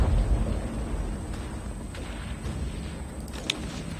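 Cannon fire from a dwarf army in a Warhammer battle game: a deep booming blast opens the clip, then rumbling battlefield noise continues, with a sharp crack near the end.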